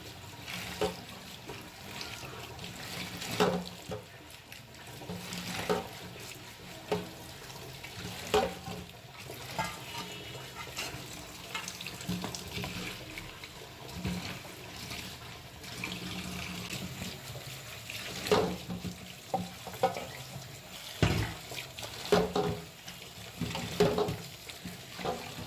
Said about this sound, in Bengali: এবার শাকটা ধুয়ে নিচ্ছি।